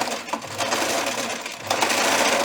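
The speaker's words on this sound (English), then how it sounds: "I'm just going to put it on my sewing machine" A sewing machine runs continuously, stitching a seam shut on a stuffed fabric snake toy, with a steady close mechanical whir that briefly dips midway before resuming.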